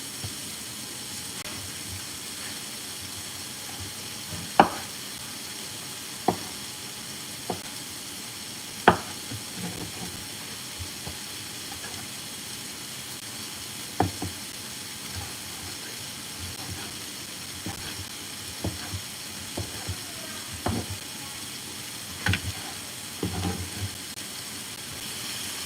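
Chicken sausages fry on a skillet while omelettes are being made, a faint, steady hiss with occasional sharp clicks and scrapes from stirring or moving the pan, with no talk.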